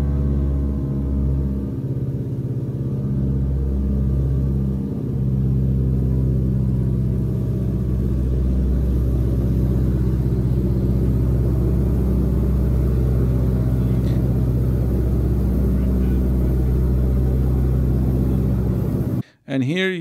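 Twin engines of a Lockheed Model 12 drone steadily from inside the cabin in flight on a bumpy day, a deep layered hum with someone talking over it before a brief cut at the end.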